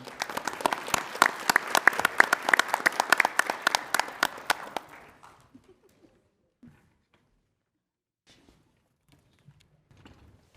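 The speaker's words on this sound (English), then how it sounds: "Round of applause for Ms. Fleming." A crowd at a school board meeting applauds with dense, steady clapping for about five seconds, then it stops abruptly, leaving near silence with a few faint scattered knocks.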